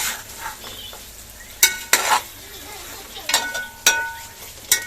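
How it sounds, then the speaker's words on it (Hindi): Beef frying in a pot for beef biryani, with potatoes, onion, tomato and green chillies added, a soft steady sizzle broken by several sharp metal scrapes and clanks of a spoon against the pot. "अभी ये गोश्त भुन रहा है"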